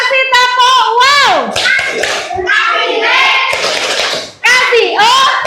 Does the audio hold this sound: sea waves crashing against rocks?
no